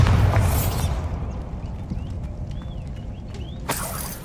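The Bombarda blast spell in the video game Hogwarts Legacy goes off as a booming explosion with a rumbling tail, followed by faint magical whistles and a second sharp burst near the end.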